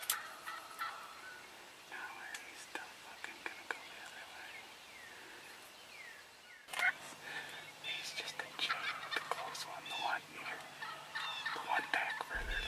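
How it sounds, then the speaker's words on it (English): Wild turkeys, both toms and hens, gobble repeatedly in the spring woods on a turkey-season morning. The calls are moderately distant and come in scattered bursts, with soft whispering voices underneath. "We know there's a lot of toms around us, and we know there's a lot of hens around us."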